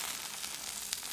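Flour tortillas crisp in a hot pan, giving a steady, soft sizzle that runs the whole moment with one small pop near the end and no talking.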